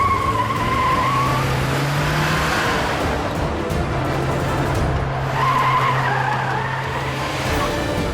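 Car tires squeal loudly in a long skid, two sustained shrieking passes under a roaring engine, close and intense.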